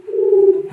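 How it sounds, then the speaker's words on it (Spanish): A single pigeon coo sounds close and clear, a soft sustained throaty note under a second alone. "ahora se me han colado unas palomas"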